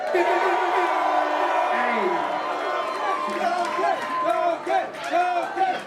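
Live comedy show crowd roaring with cheers, whoops and scattered shouts, a dense, loud wash of many voices that holds steady for several seconds before breaking into individual yells.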